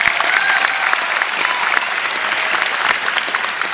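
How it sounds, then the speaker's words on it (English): A graduation audience at Atlantic Cape Community College breaks into sustained applause, a loud and dense wall of many hands clapping that stays steady throughout, with a faint murmur in the room. "Let's give them a round of applause."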